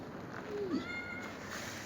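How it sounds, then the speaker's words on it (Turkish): A single short meow from a cat inside a hospital rises out of a steady background hiss, quiet and somewhat distant. "Hastaneye kedi girmiş."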